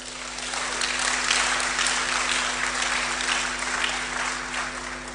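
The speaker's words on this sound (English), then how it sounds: "Clap for yourselves." A steady wash of applause from a university audience fills the room, even and sustained, with a low electrical hum running underneath.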